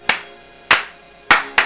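Four sharp, loud hand claps in an uneven rhythm, each a crisp close smack with a short ring-off, spaced by brief pauses and no voices.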